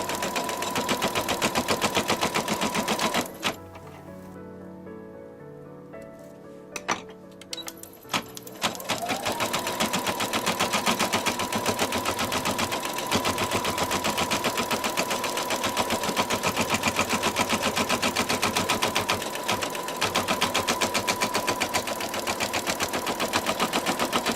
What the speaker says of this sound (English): Now we're going to do a tack down of the two layers of mylar.